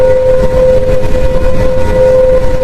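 Eerie, sustained drone presented as the sound of the planet Neptune, with a steady tonal hum over a dense rumbling wash, loud and continuous throughout with no speech.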